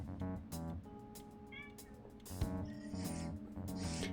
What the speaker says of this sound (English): will not stop meowing and begging for food